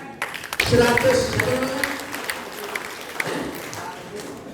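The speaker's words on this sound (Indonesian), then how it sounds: "Tepuk tangan" An audience applauds at a government regional office gathering, a burst of clapping rising after a brief spoken word and then thinning out over several seconds.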